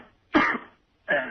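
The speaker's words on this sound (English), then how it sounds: "he's faking the cough and everything" Two short, rough coughs from a man faking being sick, close and distinct with a brief gap between them.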